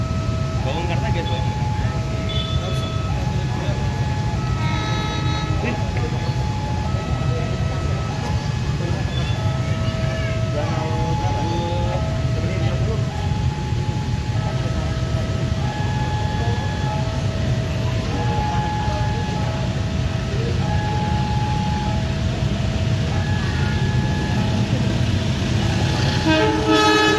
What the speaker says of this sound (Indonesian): Lintas Lempuyangan jam 8:01 yang melayani kelas eksekutif dan ekonomi dengan rangkaian stainless steel new generation.